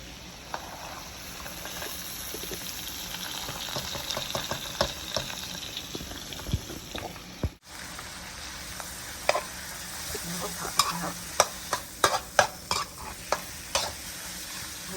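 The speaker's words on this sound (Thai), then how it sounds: "นี่เราก็ใส่ถั่วผักยาวแล้วก็หอมใหญ่ลงไปครับ" Long beans and onion are stir-fried in a pan for a Thai basil dish, with steady sizzling and frequent sharp scrapes and clanks of the utensil, loud and close, briefly dipping midway.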